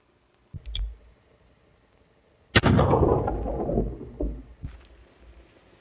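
Gunshots in an old Hoot Gibson western: a short sharp report early on, then a loud booming blast with a long rumbling decay, followed by a fainter crack, with no talk.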